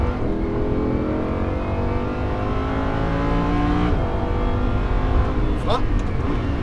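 A Lamborghini Huracan accelerates on a race track during a driving course, its engine climbing steadily in pitch, loud and close from inside the car, while an instructor talks over it.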